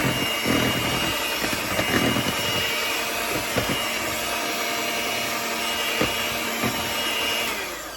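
An electric mixer beats wet cake ingredients for apple fritter cake in a bowl, a loud, steady whirring drone close by, with occasional knocks from the beaters against the bowl, easing off at the very end.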